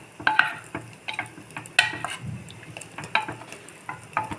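A spoon scrapes and stirs corn masala rice inside a pressure cooker, giving irregular close clinks and scrapes against the metal over a faint sizzle, with no voices.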